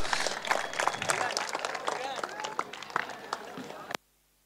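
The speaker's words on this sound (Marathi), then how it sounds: "एकदा जोरदार दीपक सरांसाठी एकदा टाळ्या वाजवा मित्रांनो" A crowd at a prize ceremony for the Sharad Koli memorial cup tournament in Trombay Koliwada claps hard for Deepak sir, the dense applause mixed with cheering voices before cutting off abruptly.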